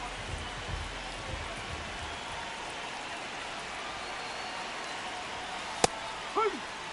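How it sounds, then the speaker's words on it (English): Steady rain falls on a ballpark in MLB The Show 26, an even soft hiss throughout with a sharp click and a faint short chirp near the end. "This rain is not letting up."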